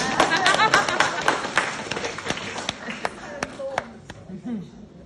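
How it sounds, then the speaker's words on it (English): Scattered audience clapping at an Australian speech, loud at first then thinning into sparse individual claps with a few louder slaps, crowd murmur underneath. "You can keep clapping if you like"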